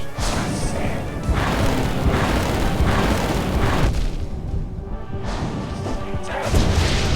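Nightmare King Grimm's boss attacks in Hollow Knight come as loud, repeated booms and crashing impacts, a dense run of whooshing, explosive hits with only short dips. No voices are heard.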